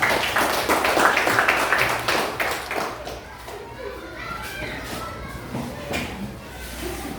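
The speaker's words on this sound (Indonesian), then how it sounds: "Berikan aplaus kepada Angga" Classroom of children clapping for a classmate named Angga, a few seconds of scattered applause that fades into children's chatter and shuffling.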